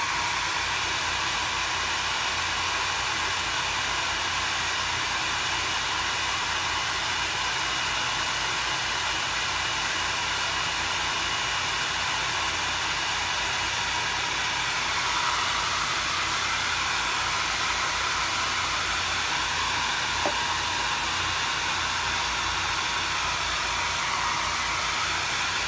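A heat tool blows a continuous, loud, steady whoosh up close for the whole stretch as chalk ink dries on a Halloween treat bag, with no talking over it.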